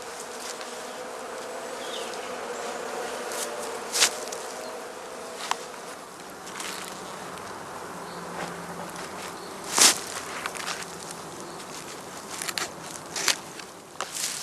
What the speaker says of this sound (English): The entrances stay open until evening to allow the bees to forage freely.